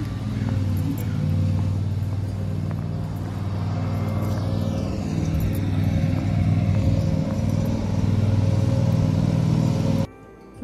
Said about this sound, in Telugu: సో మళ్ళీ స్టార్ట్ చేస్తున్నారు గ్రాస్ కటింగ్.